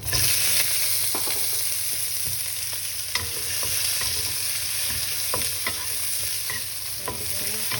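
Prawns stir-frying in hot oil with garlic give a steady, close sizzle, broken by scraping stirs and small pops, with no talk.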